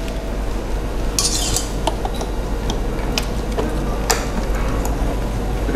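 Sugar is whisked into a pudding mixture, with quick metallic ticks and clinks of a whisk against a bowl over a steady low hum, close and moderately loud.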